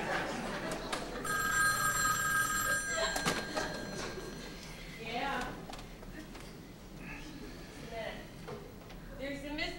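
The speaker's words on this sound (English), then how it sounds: "There's a Mr. Delmar on the phone" An office telephone rings in a short repeated electronic pattern over the first few seconds, followed by voices talking in a studio comedy sketch setting.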